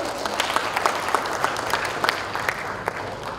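Audience applause at an MoU signing ceremony between a news outlet and a university faculty, a steady patter of many hands clapping with some sharper individual claps, moderately loud and close, with no talk over it.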